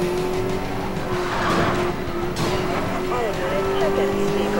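Tires squeal in brief screeching streaks as a car slides at speed in Need for Speed Most Wanted (2012), over a steady engine roar, with someone talking across it.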